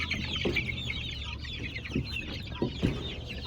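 A small backyard flock of chickens clucks near a coop, with scattered low clucks and brief calls over soft outdoor background noise, close and moderately quiet, no talking.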